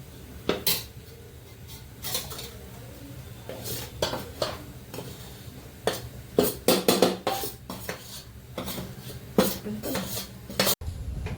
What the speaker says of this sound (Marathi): छान आता मिक्स करून घेऊया